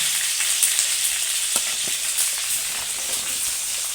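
Tomato, green chilli, onion, ginger and garlic sizzle loudly in a hot pan for a hotel-style spicy chutney, a dense, steady frying hiss with occasional faint stirring knocks close by.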